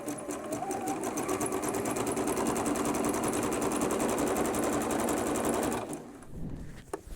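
A sewing machine runs a zigzag stitch along the edge of a rectangular pillow cover for an IKEA pillow, giving a steady, close, rapid mechanical whir for about six seconds before stopping abruptly.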